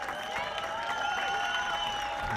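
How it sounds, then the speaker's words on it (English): Applause and cheers in a football stadium in Berlin at a Euro 2017 women's match, Turkey versus Belgium, a steady distant crowd roar with a sustained tone over it, fairly quiet. "a big round of applause given to her by the Turkish bench. And you can hear the cheers"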